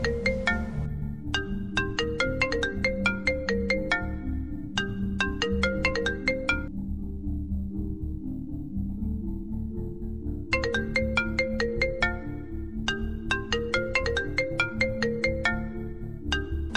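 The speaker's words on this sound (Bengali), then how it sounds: "স্যার মামুন স্যার ফোন দিয়েছে।" A melodic phone ringtone plays loud and close, its bright chiming phrase repeating several times, pausing briefly, then starting again.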